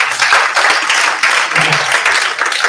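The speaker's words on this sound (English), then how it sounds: "Can we have another round of applause?" An audience at an HIV and STI research dialogue event breaks into a round of applause, dense steady clapping from many hands, loud and close for the whole stretch, no voices over it.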